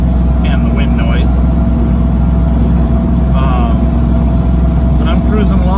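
A loud, steady engine drone with road roar and wind rush inside a moving 1990 Ford Mustang LX 5.0 at about 75 mph, with exhaust noise and a few faint chirps and whines along the way.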